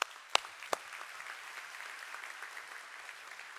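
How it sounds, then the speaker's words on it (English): Crowd at an annual event breaks into sustained applause, with a couple of sharp loud claps near the start before settling into a steady patter. "So let's have another round of applause for Jocelyn."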